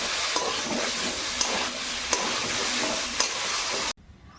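Crushed ginger sizzles and fries in a pan while sago khichuri cooks, a steady dense hiss with a few faint stirring scrapes, ending abruptly near the close.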